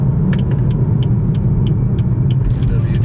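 BMW car driving around a road among many other cars, a steady low engine rumble and road noise carrying on throughout, with a few faint higher clicks in the background.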